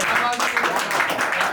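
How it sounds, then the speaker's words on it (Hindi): A live audience at a Hindi poetry gathering claps to welcome a comic poet to the microphone, a dense, steady wash of applause lasting the whole moment, loud and close. "जोरदार तालियों से"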